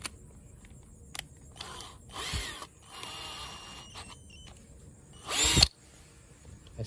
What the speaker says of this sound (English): I start to drill this bottle